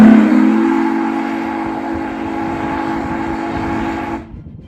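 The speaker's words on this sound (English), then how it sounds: "we took the whistle up to the Virginia and Truckee Railroad for a steam test of the new valve" A Hancock long bell steam whistle from Union Pacific 3985 Challenger blows in one loud, sustained chord for about four seconds, then cuts off abruptly, leaving faint background noise.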